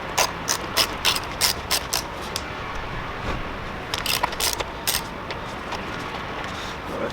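A ratchet clicks in quick bursts while a screw is backed out of the airbox on a BMW E90, with two runs of sharp close clicking separated by a short pause.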